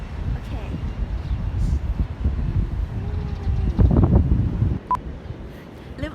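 Strong wind gusts across the microphone at Orewa Beach in New Zealand, a steady low roar with buffeting peaks, while someone talks over it.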